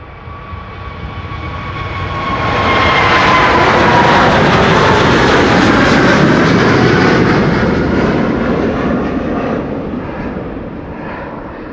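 An Airbus A350 takes off from runway 24 at Amsterdam Schiphol, its jet engine roar building from a distant whine into a loud, sustained rumble that peaks mid-pass and slowly fades as it climbs away.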